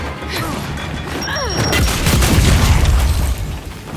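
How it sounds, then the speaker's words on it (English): A frag grenade blows up in a Gears of War 5 firefight with Locust enemies, a loud boom and crashing debris rolling on for a few seconds amid gunfire and battle noise. "Throwing grenade!"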